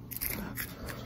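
Crunchy bites of a dried edible cricket, close and brief, with a few sharp crackles over about a second and no talking.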